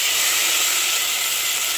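Steady broad hiss of steam venting from a pressure cooker whistle while cooking jackfruit curry, continuous and fairly loud with no voices.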